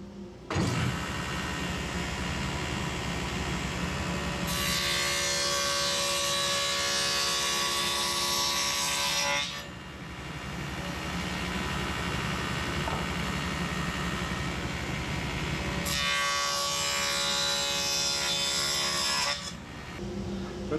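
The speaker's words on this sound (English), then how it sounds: "I want to cut my dado on the face side." A saw runs continuously while cutting a dado into the face side of plywood for a workbench drawer box, a steady whining buzz that grows harsher during two bursts of heavier cutting, close and loud with no speech.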